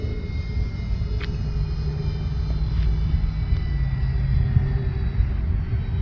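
An E-flite RV7 electric model airplane flying at dusk, a steady low rumble and drone that holds evenly for several seconds with a faint high whine, close and loud, without voices.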